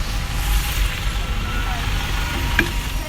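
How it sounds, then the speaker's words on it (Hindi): A bus pulls up at a stop on a rainy day, its engine a low rumble under steady rain hiss, with a brief high squeal near the end, close by. "एंड मेरी बस भी आ गई है।"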